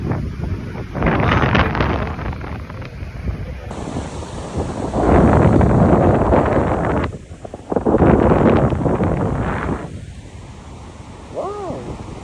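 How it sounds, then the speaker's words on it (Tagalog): Ocean waves at Tondaligan Beach in Dagupan, surging in loud broad washes that rise and fall with heavy wind buffeting the microphone, and brief voices in between. "Ganda guys, ayun may alon."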